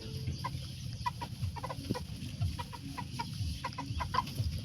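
Bantam chickens cluck softly and repeatedly in a backyard coop, irregular short clucks over a steady low rumble of background noise, close and moderately quiet.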